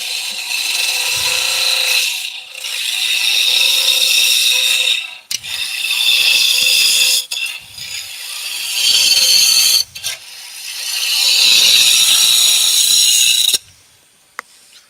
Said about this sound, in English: Yes, Justin, I'm using a spindle gouge on end grain.